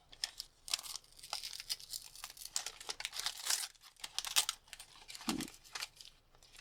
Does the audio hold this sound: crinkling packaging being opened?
yes